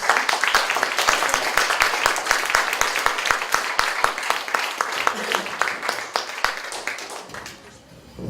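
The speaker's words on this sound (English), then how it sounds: "I think another big round of applause" Audience at a song-in-translation performance applauds with crisp, individual claps in a lively steady rhythm, tapering off over the last second with a voice briefly present.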